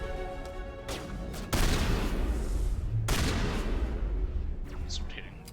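Weapon fire in the video game Mass Effect: a few sharp bursts of shots separated by brief gaps, fairly quiet overall, with game noise between the volleys.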